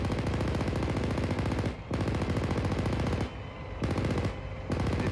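Coaxial machine gun firing from a combat vehicle during Marine unit training: loud, close, rapid automatic fire in four bursts, two long and two shorter, separated by brief pauses.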